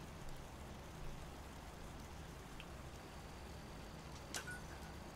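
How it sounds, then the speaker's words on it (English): Steady rain falls in the Fallout 76 game world, a soft continuous hiss with low rumble throughout, plus a brief sharp chime near the end. "all my stuff's getting rained on"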